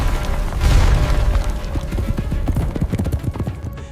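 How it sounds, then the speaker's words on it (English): Two horsemen riding directly into a hall as a sound effect: loud, close clip-clop of hooves in a fast irregular rhythm over a deep rumbling boom, with no voices. "2 horsemen, swords drawn, rode their horses directly into the hall"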